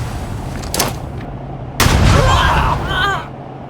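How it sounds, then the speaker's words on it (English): Stasis grenades go off in a video game: a short thump, then a louder burst with a rumbling tail and warbling, wavering electronic tones that fade after about a second. "Stasis grenades gets them every time."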